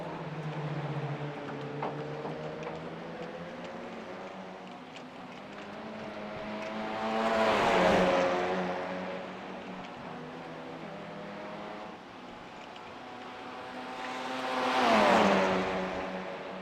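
Racing car engines at the Nürburgring in the iRacing sim drone and whine steadily, with two cars swelling louder as they sweep close by, rising and falling in pitch as they pass.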